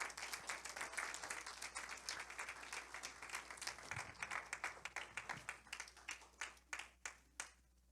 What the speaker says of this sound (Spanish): Le da un aplauso a Cristo, hermano.